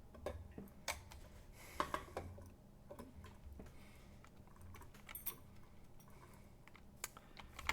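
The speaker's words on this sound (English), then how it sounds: "please do not play with my keyboard." A cat stepping on a computer keyboard produces faint, irregular clicks and taps at close range, with quiet sparse presses scattered through a hushed room.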